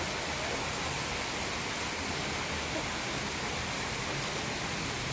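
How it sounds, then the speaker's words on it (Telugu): Heavy storm rain pours over a roadside with trees and water running along the road, a steady, dense hiss that stays loud and unbroken from start to finish with no voices. "పెద్ద భారీ వర్షాలు."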